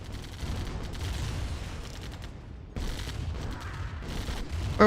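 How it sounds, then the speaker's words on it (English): Artillery in the Command & Conquer Remastered strategy game pounds buildings with rapid, overlapping blasts and gunfire that keep up steadily, break off briefly, then resume, loud and without voices. "Take your artillery over here and destroy the buildings."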